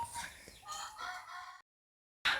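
Backyard chickens, including hens, clucking and crowing close by in a couple of short bursts, then a pause before another loud call cuts in.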